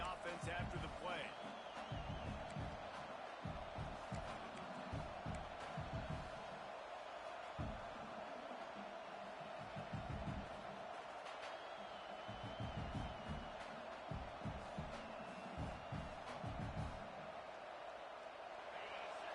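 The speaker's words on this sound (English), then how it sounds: "The roar of the crowd trying to fuel this defense to keep them pinned in their own end" A football stadium crowd roars steadily throughout, a loud continuous wall of voices with scattered thumps and bursts, while an announcer's voice runs over the top.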